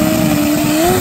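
A turbocharged drag racing motorcycle on a shakedown run at a drag strip, its engine droning loud and sustained with a steady rising pitch over one second.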